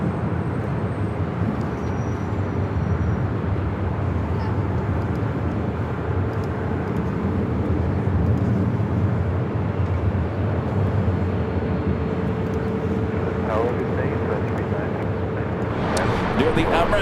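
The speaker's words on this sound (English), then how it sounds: "A321 Neo." An American Airlines Airbus A321neo bound for Honolulu at LAX airport gives off a steady, continuous jet roar from a distance, blended with airport background noise, with a voice talking over it.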